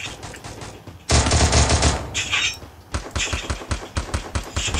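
Rapid automatic gunfire in a Free Fire battle-royale match, loud and close, with dense bursts of sharp cracks that give way to a steady rhythm of single spaced shots.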